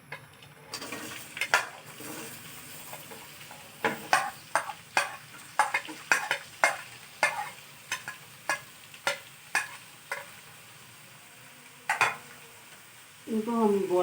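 Sliced onions frying in oil, a close, continuous sizzle broken by a regular series of sharp spatula taps and scrapes against the pan, ending in a louder burst of stirring.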